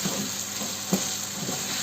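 Lentils and tomato sauté in a pan with a steady, close sizzle. Soft scraping stirs cut through at intervals, and one sharp knock lands near the middle.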